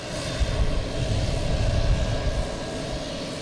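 A propeller plane at Boston Logan Airport gives a steady, droning engine roar that swells slightly and then holds, loud and fairly close, with no talking.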